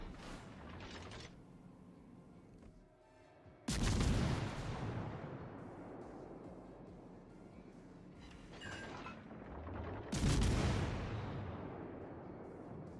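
Two heavy booming salvos from a warship firing HE shells in World of Warships Legends, each a loud deep blast with a long rumbling decay, spaced several seconds apart over a steady background drone.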